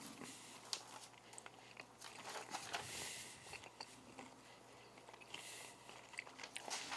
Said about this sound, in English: Let me finish chewing this, boys.